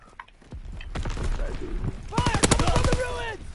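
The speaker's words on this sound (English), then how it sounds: "Taking heavy fire!" Rapid gunfire in a World War II shooter video game, a burst of sharp close shots with a chaotic battle din and some talk over it.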